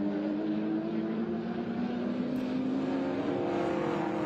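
Racing cars on a track at a Sydney event, including a BMW and a Holden Commodore, heard as a loud sustained engine roar with a steady rising tone, continuous and fairly close without voices.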